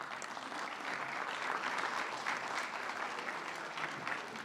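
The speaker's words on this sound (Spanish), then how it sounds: "Un aplauso para Ariel." At a small-business event, the audience gives a prize winner a warm round of clapping, an even, sustained patter of many hands at moderate volume with no talk over it.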